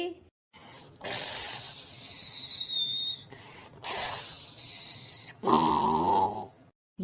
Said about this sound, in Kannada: ಯಪ್ಪ ಸೀಟಿ ಹೊಡಿತಾ ಇದ್ದಾನೆ